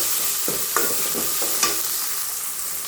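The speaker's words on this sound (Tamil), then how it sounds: "இப்போ பற்ற போட்டுக்கலாம் போட்டு நல்லா வதக்கணும்" Ingredients for sundakkai sambar sauté in a hot pan with a continuous sizzle, broken by a few distinct spoon scrapes and taps against the pan, close and clear with no talking.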